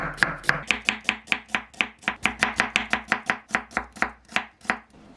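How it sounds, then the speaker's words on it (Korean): Rapid, steady knife chops slicing an onion on a cutting board, about twenty crisp strikes in a quick even rhythm, close and clear with no talking. "반을 자르고 채 썰어 주세요."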